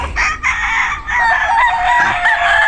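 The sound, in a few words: chickens, rooster crowing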